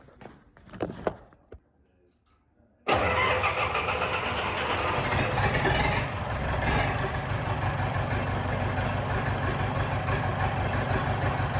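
A 2013 Cummins diesel pickup engine cranks and fires up after a few quiet clicks, then settles into a loud, steady rattling idle close by.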